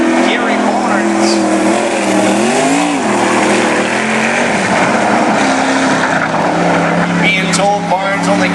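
Gary Barnes's number 75 race car on a Hurricane chassis roars through a qualifying lap at Cottage Grove, a loud, sustained engine note rising and falling as it works through the gears, with an announcer talking over it.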